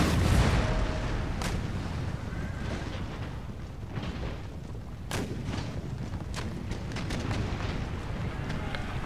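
Gunfire and artillery in an Empire Total War battle, scattered sharp musket cracks and booms over a busy rumbling battlefield mix with horses, moderately faint.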